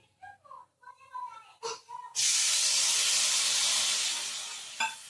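Tamarind juice poured into a pan of fish curry masala frying in oil erupts into a loud, bright hiss that fades slowly, preceded by a few brief utensil clinks and stirring sounds.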